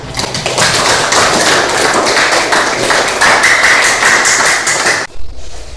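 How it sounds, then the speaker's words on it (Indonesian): A university teacher-training classroom applauding together, loud and close with rapid, dense hand claps and some rhythmic tapping, stopping abruptly near the end. "Jadi tepuk tangan untuk kita semua"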